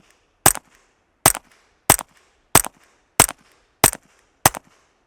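An AR rifle fitted with a Lynx suppressor fires subsonic ammunition: seven loud, sharp suppressed shots at an even pace, about two-thirds of a second apart, with quiet gaps between them.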